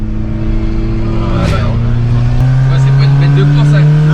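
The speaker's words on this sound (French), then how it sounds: "on a été chercher le rupteur là, vous l'avez entendu" A Peugeot 206 engine is revved hard up to the rev limiter, holding a loud, steady drone that steps up in pitch as it bounces off the limiter, with people talking over it.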